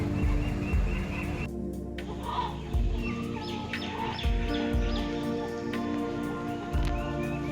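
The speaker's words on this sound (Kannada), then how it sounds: "ಸಂತು ಅಲ್ಲೊಂದು ಕೋಳಿ ಐತೆ ಎಷ್ಟು ದಪ್ಪ ಆಯ್ತಂದ್ರೆ" Chickens at a poultry farm cluck steadily in the background, with a low rumbling hum running underneath.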